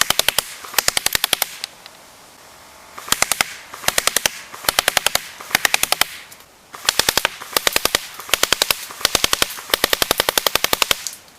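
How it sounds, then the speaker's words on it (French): Airsoft AK47 replica (CM028S) firing repeated rapid full-auto bursts, each a sharp close mechanical rattle of about ten shots, separated by short pauses, with no talking. "Donc maintenant, on va faire un peu de rafale."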